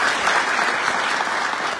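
A crowd at a community fundraising gathering of Kambata people in South Africa, held for the construction of Halaba stadium, claps in a thick, continuous burst of applause with no talking.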